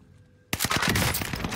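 Sudden bursts of rapid automatic gunfire erupt loud and close in a video game shootout, continuing as a dense rattling barrage after a brief quiet start.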